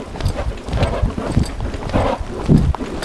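Horse hoofbeats in an engaged lope during a riding lesson: a steady, rhythmic run of thudding footfalls, close and fairly loud, in three-beat groups over some background noise.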